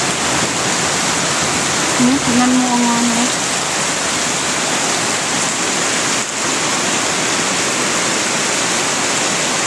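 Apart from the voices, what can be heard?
heavy rain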